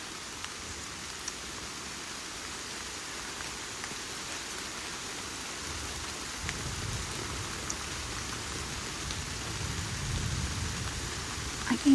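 Steady rain falls on the Ozark Trail in Missouri, a dense even hiss of drops on leaves and ground that thickens slightly toward the end, with no voices.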